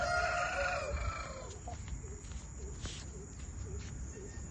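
A rooster, a Kikrai fighting and breeding cock on a rooster farm, crows loudly at close range near the start, followed by faint, steady background chirping.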